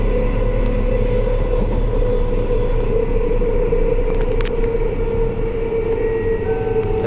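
A Joondalup Line express train arriving at Whitfords station, heard from on board as a loud, steady rumble and hum with a sustained tonal whine and occasional rattles, no talking.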